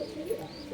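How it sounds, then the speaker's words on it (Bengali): Pigeons in a breeding pair coo softly nearby in a short, low, murmuring call over faint background noise. "এখানে যত কবুতর দেখছেন সব ব্রিডিং পেয়ার আছে।"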